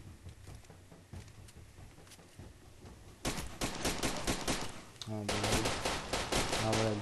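Gunfire from a sniper in the video game Far Cry 2 bursts in loud, dense volleys over steady game ambience, while someone speaks over the action.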